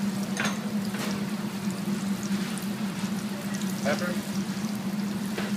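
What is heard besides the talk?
shallots frying in olive oil in a pan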